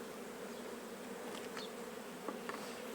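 Honeybees at an open beehive with brood comb, a close, continuous low buzzing hum with a few individual bees passing nearer, and no one speaking.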